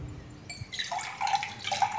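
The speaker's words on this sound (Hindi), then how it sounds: "ये खाली गिलास में दोस्तों मैं अभी पानी ले रहा हूँ," Water poured into an empty glass, a soft close trickle that rises in pitch as it fills, heard alone without talk.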